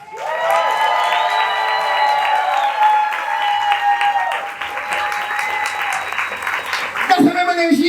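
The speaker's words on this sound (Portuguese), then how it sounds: "Uma salva de palmas para Jô Freitas!" Audience applause at a cultural event, loud and sustained for several seconds, mixed with cheering and a sung or held musical tone, then a brief shout near the end.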